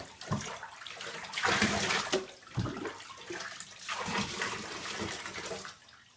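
Water runs and splashes in a bathtub while a Shorkie dog is bathed, a continuous close gush that shifts and surges as the stream is moved around.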